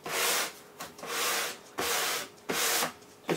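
Wooden glue joint on soundboard skins being hand sanded with 240 grit sandpaper, in four close, loud rasping strokes with short pauses between passes.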